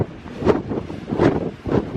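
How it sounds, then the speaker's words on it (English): Strong wind gusting on an open mountainside by an old ghost town cemetery in Nevada, buffeting the microphone in loud surging waves with no voices. "it is windy, so if you can't hear me, I apologize"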